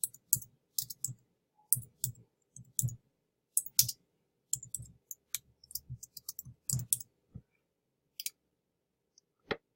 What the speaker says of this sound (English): I'm going to go ahead and type the remainder in